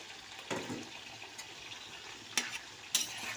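Vegetables being stirred in a frying pan with ginger and spices, a steady sizzle throughout with occasional sharp scraping clanks of the spoon against the pan, close and without talk.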